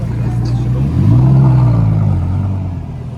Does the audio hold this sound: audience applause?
no